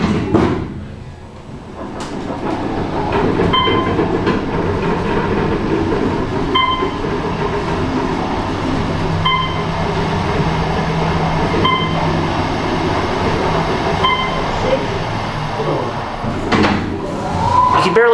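An older Otis Series 5 machine-room-less traction elevator at a medical centre travels upward, giving a steady, fairly loud hum and rumble inside the car with faint periodic beeps and a brief voice near the end.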